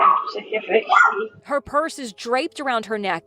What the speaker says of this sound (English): you can hear her dog barking inside her house